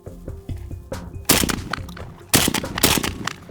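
Shotgun fired at a target at close range, two loud sharp blasts with ringing decay and some clanking handling noise between them, no talking.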